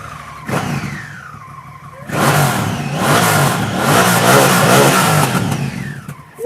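Motorcycle with a stock exhaust revving on a busy street, a brief engine blip followed by a louder, sustained rising and falling rev close by.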